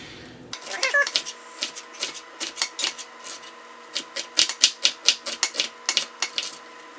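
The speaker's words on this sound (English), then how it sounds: "I just come back through and I cut the opposite direction, and that dices it" A knife dicing onion on a cutting board in a home kitchen, a long run of sharp, steady chops landing close and loud, speeding up toward the end, with no voices.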